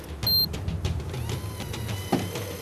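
Steady mechanical motor whirring of an electric fishing reel winding up line, with a low hum and faint clicks.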